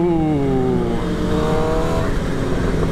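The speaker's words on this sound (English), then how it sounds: "A little couple rev matches for you." A motorcycle engine blips through a couple of quick rev-matched downshifts on a group ride, the pitch sweeping down then rising, loud and close under steady wind and road noise.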